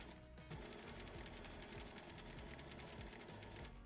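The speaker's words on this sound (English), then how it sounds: "the machine will now control and do the next leg of the buttonhole." A sewing machine runs steadily while stitching a buttonhole, its fast even whirring close and constant for the whole stretch with no talk.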